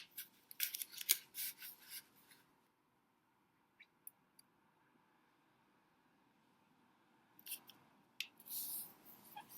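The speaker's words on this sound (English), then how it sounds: "Now you're going to fold in half diagonally." Paper is folded in half diagonally for an origami crane, giving close, faint crisp rustles and scrapes at the start and end with a near-silent stretch between them.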